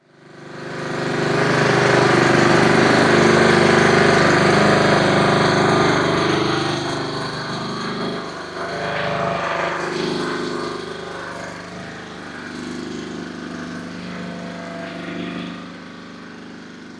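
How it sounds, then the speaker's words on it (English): A Honda HRR216 lawnmower engine is started and runs steadily while warming up, a loud, close, continuous mechanical drone with a rattling edge that eases slightly in level after the first several seconds. "start the lawnmower up, get it up to operating temperature"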